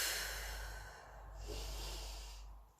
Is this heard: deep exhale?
yes